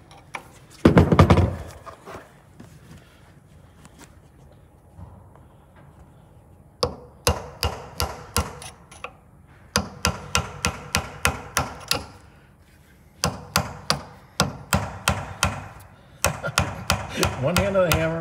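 Bursts of rapid hammer strikes on metal on a bus in a repair shop ring out in several clusters separated by pauses, close and sharp, with a thud near the start.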